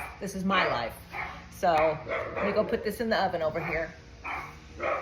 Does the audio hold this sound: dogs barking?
yes